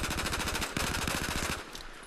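Rapid automatic machine gun fire in the video game Battlefield 4, a dense, loud, close burst of rounds that cuts off near the end, alone without talk.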